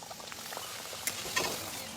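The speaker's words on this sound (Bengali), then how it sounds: "তেলটা গরম হয়ে গেছে আমি একটা একটা করে ভেজে নেব" Egg pocket paratha frying one at a time in hot oil, a steady close bubbling sizzle with a couple of brief louder crackles, no talking.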